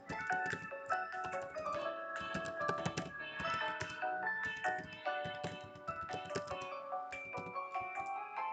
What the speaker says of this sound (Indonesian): Oke, saya ketik dulu.